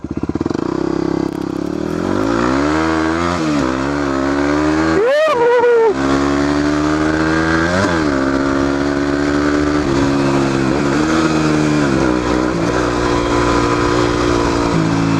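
A small Yamaha WR motorcycle engine runs steadily and loudly up close while riding, with one sharp rev and a gear change near the middle, then it settles back into a continuous drone.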